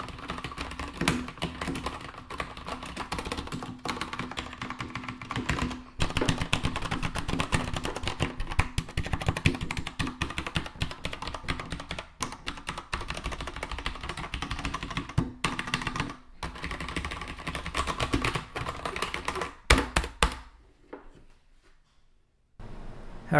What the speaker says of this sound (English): Finally, we also have the Steelseries 6G V2 with the Cherry MX Black key switches.